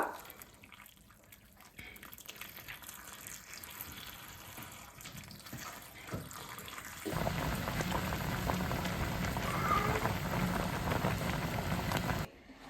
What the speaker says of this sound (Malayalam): അതിലേക്ക് 2 ലിറ്റർ അളവില് നമ്മൾ തിളപ്പിച്ച വെള്ളം ഒഴിച്ചു കൊടുക്കുക